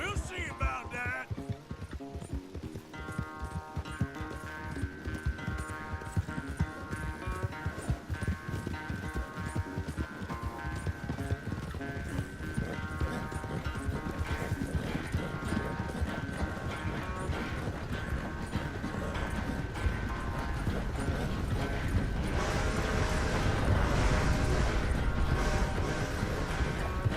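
Hooves of a galloping horse in Red Dead Redemption 2 pound in a fast continuous clip-clop during a race, mixed with game music, while characters talk over the rhythm.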